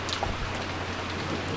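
Steady rain with wind in the visual novel Umineko: a dense, even hiss of falling rain, scattered drop ticks and a low rumbling undertone, continuous throughout with no voices.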